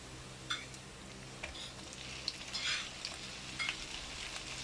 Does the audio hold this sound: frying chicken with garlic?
yes